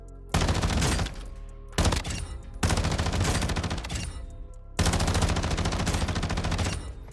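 Rapid bursts of automatic gunfire from an accurate long-range weapon in the Warzone video game, loud and close, in several sustained strings separated by short pauses.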